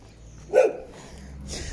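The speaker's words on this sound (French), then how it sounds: "Oui, petit chien." A small dog gives a single short, sharp bark, close and clear, followed by quieter background sounds.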